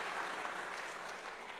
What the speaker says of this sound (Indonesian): Tepuk tangan dong buat mantap.